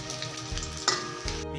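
Chicken omelette (torta manok) made with egg, flour, onion and garlic fries in a pan, giving a steady close crackling sizzle with a few louder pops, no talk.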